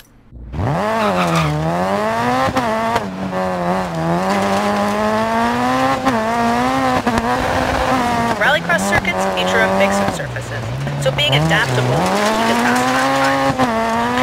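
A rally car in the video game DiRT 4 on a mixed-surface tutorial, its loud engine revving up and down through gear changes, with tire squeal and skidding near the end.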